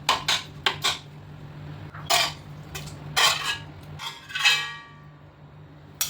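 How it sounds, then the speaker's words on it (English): A spoon scrapes and knocks against a pan while soft cooked tomatoes are mashed, giving several sharp metallic clinks and scrapes spaced irregularly over a low background hum. "Mash them gently with a spoon and keep them aside"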